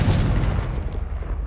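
A Confringo fire spell in Hogwarts Legacy makes one loud, booming explosive burst right at the start, then a short rumbling decay.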